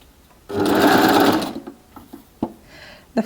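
A serger sewing machine stitches fabric in one steady whirring run of about a second, close and loud, followed by a few soft clicks and handling taps.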